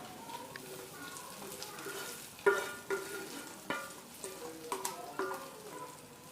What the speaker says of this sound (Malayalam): ഇനി നമ്മുടെ ഉള്ളി താളിച്ച് നമുക്ക് ഇങ്ങോട്ട് ഇട്ട് കൊടുക്കാം.